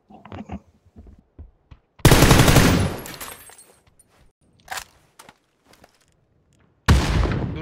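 Gunfire in a video game shooter, beginning with scattered faint shots and footsteps, then a loud sustained automatic burst, a single sharp shot and another heavy burst at the end.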